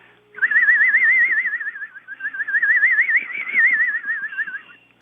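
A warbling, wavering whistle sustains for several seconds, imitating a strange squeal from a car's blower motor running for the defrost, with a fast vibrato, clear and close.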